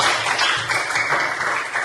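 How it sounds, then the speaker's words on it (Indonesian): Students in a classroom break into sustained applause, a dense, steady wash of many hands clapping at once without pause, fairly loud and close. "Tepuk tangan untuk kita semua."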